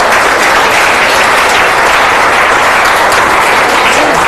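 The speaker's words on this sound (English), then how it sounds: "Let's have a big round of applause for all of them." A crowd at a school spell bee competition bursts into loud, sustained applause, dense clapping that fills the whole stretch without a break.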